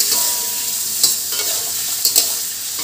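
Paneer pieces with turmeric fry in a pan, a constant close sizzle of hot oil with a couple of brief spatula stirs, no voices.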